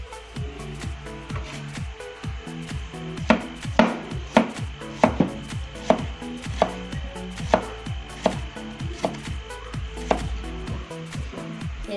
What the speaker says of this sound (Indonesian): Sekarang kita mengiris bawang.